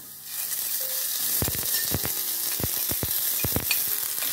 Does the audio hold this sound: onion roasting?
yes